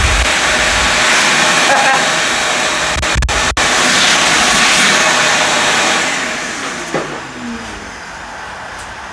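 A Ridgid wet vac runs with a steady broadband roar that holds loud for most of the stretch, then eases down and quiets toward the end, with a couple of brief bumps along the way.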